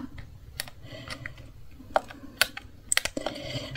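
A homemade scrapbooking stencil is cut out in a series of sharp, irregular clicks and snips, fairly close and alone over a quiet background.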